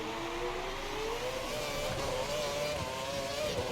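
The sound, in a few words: F1 car engine in the F1 2012 video game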